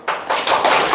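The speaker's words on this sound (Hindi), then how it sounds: "ताली बजाओ।" A classroom of students breaks into a short burst of clapping, loud and close, with several quick pulses blending into one another.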